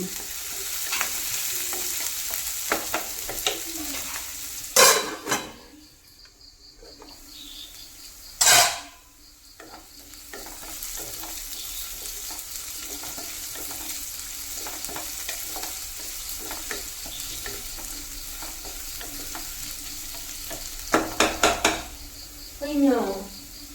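Onions, green chillies and curry leaves sauté in a hot pan, with a continuous crackling sizzle broken by loud scrapes and clanks of a spoon stirring against the metal, and a voice talking at times.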